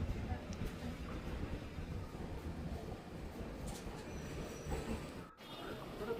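The Wodeyar Express from Mysore pulls into Bangalore Majestic station with a steady, low rolling rumble of coaches and wheels, continuous and fairly close throughout.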